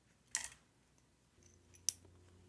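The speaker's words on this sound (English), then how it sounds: "It's better to cut one at a time than to try to cut 2." Two sharp, separate snips as beading wire ends are cut one at a time for a button-and-bead bracelet, each a crisp close click within a quiet room.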